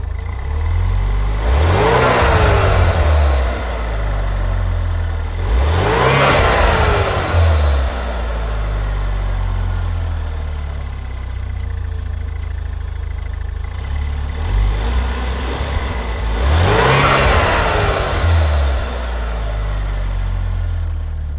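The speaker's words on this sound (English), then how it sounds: "Let's go ahead and give it a rev and see what it does." A turbocharged Pontiac Solstice GXP engine, started after sitting for years, idles loudly up close and is revved three times in sharp rising sweeps, with no talking.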